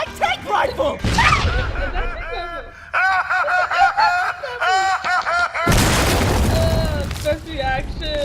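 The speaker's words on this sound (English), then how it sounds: "Oh, fuck, that's an anti-tank rifle!" An anti-tank rifle fires in the Hellsing Abridged anime: two loud, sharp broadband booms, one near the start and a bigger one later that rings on, with animated character voices and laughter between them.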